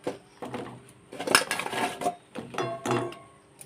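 A metal lid is lifted off a pot of sugar syrup, giving a few close clinks and scrapes of metal against metal over about four seconds, with no talking.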